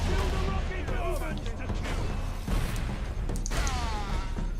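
Las cannon firing in Space Marine, loud heavy blasts with whooshing energy streaks amid chaotic battle noise, a voice talking over the gunfire.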